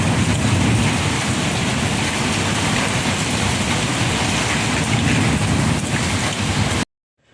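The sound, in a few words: small hail and rain falling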